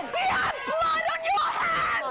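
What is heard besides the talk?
pigs screaming in carbon dioxide gas chambers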